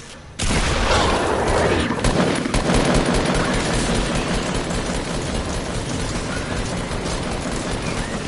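Rapid automatic gunfire from weapons in the video game Fortnite, loud and close, a dense continuous burst of shots running almost unbroken after a brief quiet start, with booms and engine-like rumble mixed in.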